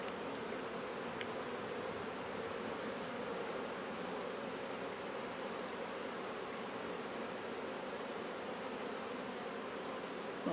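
Honeybees buzzing in a dense, continuous drone during a beehive inspection, a steady close hum with no breaks or changes in loudness.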